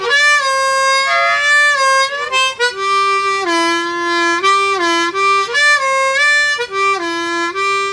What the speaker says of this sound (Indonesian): Nah teknik bending itu suara khas harmonika blues banget ya.